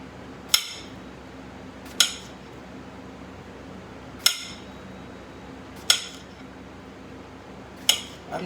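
A kitchen knife slices a cucumber thinly on a cutting board, producing five sharp, isolated taps spaced unevenly over several seconds against a quiet background hum.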